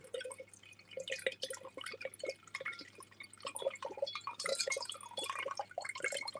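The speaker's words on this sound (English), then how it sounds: "I'm not going to pour a lot in case I don't like it" A drink trickles and drips into a glass in a quiet room, with small irregular splashes and pouring sounds close by and no talking.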